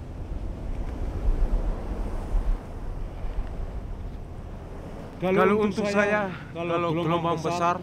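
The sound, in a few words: sea waves around sailing ship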